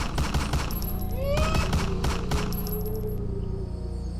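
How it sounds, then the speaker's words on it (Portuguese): Several sharp gunshot cracks ring out over a dense, noisy background, with a whistling, ricochet-like sweep between them. "Assim que entramos, só escutamos o barulho do disparo."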